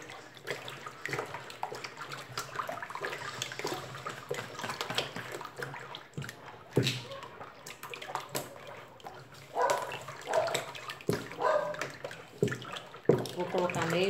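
Strawberry detergent mixed with cooking oil is stirred in a large batch, giving a continuous wet swishing and sloshing with a few sharper splashes toward the end, close and fairly steady.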